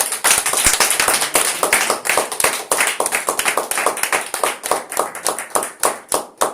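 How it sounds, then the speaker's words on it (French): Rhythmic clapping from a church congregation acclaiming God, sharp individual claps falling in a fast steady beat, loud and close, continuing for several seconds with the pulse loosening toward the end. "Donc on va encore donner l'acclamation à notre Dieu."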